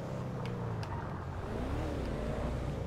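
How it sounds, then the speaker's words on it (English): A Lampadati Novak SUV in GTA V Online drives with a steady, loud engine drone, its pitch swinging up and down as it revs, running the whole time with no talk. "this is like one of the best sounding SUVs I've ever heard in this game so far."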